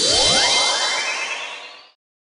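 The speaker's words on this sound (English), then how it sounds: "Enchanting warp." An enchanting warp sound effect sweeps upward in bright shimmering tones, then fades out smoothly over about two seconds, loud and alone.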